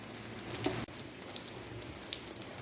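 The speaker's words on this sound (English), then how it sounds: "That's some pretty good rain coming down now." Heavy rain pours steadily with a constant hiss, broken by a sharp click and occasional louder drips landing nearby.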